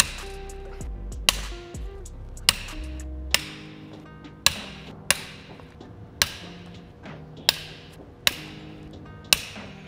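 A series of sharp metallic clicks and taps at a steady, roughly one-per-second pace, close up, like a ratchet loosening the case bolts of a blown FA24 engine from a 2022 Toyota GR86.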